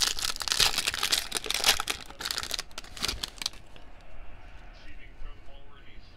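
Foil wrappers of 2020 Topps Series 2 baseball card packs from a blaster box crinkle and tear loudly up close for several seconds, then cards shuffle quietly, with a voice talking.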